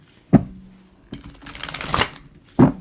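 A large tarot deck is shuffled by hand: sharp card taps at the start and end frame a longer riffling, rustling shuffle, close and fairly loud, with no talk over it.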